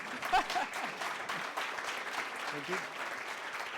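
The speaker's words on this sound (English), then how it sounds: "applause" An audience applauds at a working-conditions conference at the Grand Hotel Reykjavik, a soft, even patter of many hands heard from a distance while a nearby voice speaks briefly over it.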